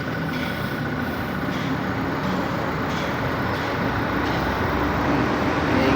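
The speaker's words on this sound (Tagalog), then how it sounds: "Ingay lang mga truck dito" Continuous heavy roadway rumble of large trucks and traffic passing on a highway, a dense steady roar growing slightly louder toward the end.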